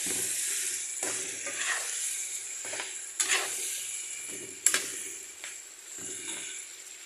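Vegetables frying with spices in a pan, a steady close sizzle with intermittent stirring scrapes and a couple of sharper clinks from utensils.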